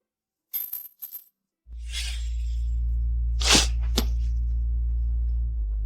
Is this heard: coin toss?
yes